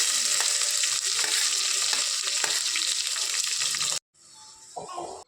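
Mustard seeds, cumin, curry leaves, green chilli and onion sizzling loudly in hot oil in a home kitchen pan, a dense steady crackle for about four seconds that cuts off abruptly, followed by quieter stirring and scraping.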